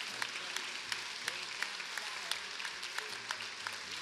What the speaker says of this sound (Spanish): Un aplauso a este maestro